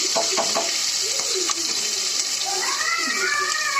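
Onion, chillies, mint and coriander sauté in a pan for a tomato rice dish, giving a steady close sizzle with a bit of stirring, while a voice talks over it.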